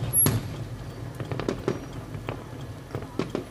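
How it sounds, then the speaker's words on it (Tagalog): Eid fireworks over Al Khobar crackle and pop in scattered bursts, heard from inside a moving car with a steady low road rumble underneath. "So, yan na yung fireworks."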